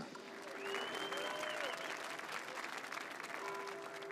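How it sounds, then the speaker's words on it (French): A crowd applauds at the Tour de France 2016 rider presentation ceremony, sustained clapping heard from a distance, with an announcer's voice speaking over it. "Mesdames et messieurs, en applaudissements s'il vous plaît"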